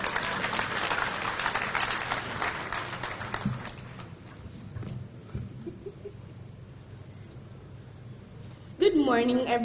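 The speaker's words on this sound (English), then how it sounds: "If you cannot remember where you were at age 11, you should clap more." Audience applause at a Lagos symposium stage event, dense clapping filling the first few seconds then thinning to scattered claps before a voice starts speaking near the end.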